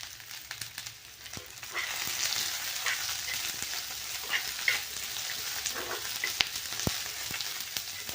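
Sliced onion and grated dried coconut roast in a pan while being turned, giving a soft, continuous sizzle with scattered scraping and clicking stir sounds that grows a little louder partway through, close by and without talk.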